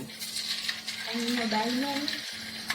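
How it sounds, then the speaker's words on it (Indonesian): Food sizzling as pieces go into hot oil for a cassava-leaf and chicken balado meal, a steady close crackle and hiss throughout with brief faint tonal squeals and a clink, no talk over it. "Nah, minyaknya sudah panas, kita masukkan satu persatu."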